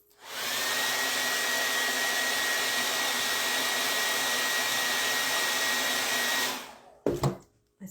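A hair dryer blows steadily for about six seconds on a DIY wooden rolling pin craft, loud and close with a constant whooshing roar, then clicks off and a few handling knocks follow.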